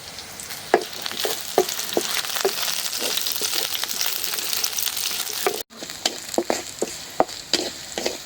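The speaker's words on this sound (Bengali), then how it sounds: "রসুন ভাজা হয়ে গেছে রসুন মরিচ ভাজা হয়েছে" Garlic and chili sizzle steadily in hot oil, with sharp clicks of stirring scattered throughout and a brief pause near the end.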